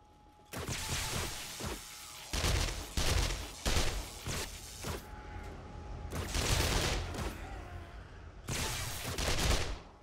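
Zombies in the 7 Days to Die video game banging on a base fence during a blood moon horde, heavy irregular bursts of impacts in clustered volleys, loud and close, separated by brief quieter gaps.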